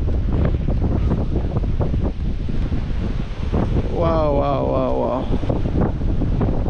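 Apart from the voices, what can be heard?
strong wind outdoors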